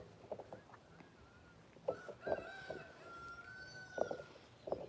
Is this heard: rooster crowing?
yes